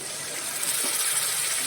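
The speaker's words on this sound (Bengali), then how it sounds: "ঝোলটা দিয়ে দেবো।" Liquid curry broth pours into a hot cooking pan with a steady, close wet gush and hiss lasting under two seconds, with no talk.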